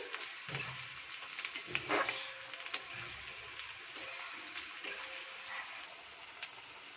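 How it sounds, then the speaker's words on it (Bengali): Onions sizzling in a pan while cooking kochur loti, a steady crackling fry with scattered sharper pops and faint stirring clatter, close and moderate in level. "পেঁয়াজটাকে ভাজি, না ভাজলে পরে তখন ভালো লাগবে না।"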